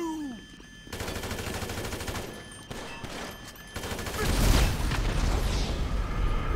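Gunfire and explosions in Grand Theft Auto V: dense bursts of automatic fire and single shots build into a loud, booming blast in the later seconds, with no voices over the combat.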